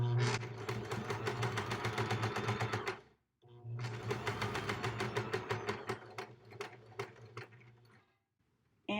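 Sewing machine stitching steadily through the bulky centre of a Martha Washington quilt block, two sustained loud runs of rapid mechanical needle clatter separated by a brief pause, with no talking.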